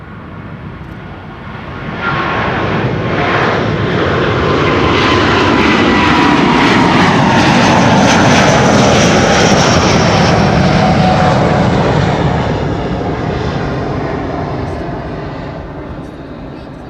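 An airliner departs from runway 24 (Kaagbaan) at Amsterdam Schiphol. Its loud jet roar swells over a couple of seconds, holds strong and then slowly fades as the aircraft climbs away.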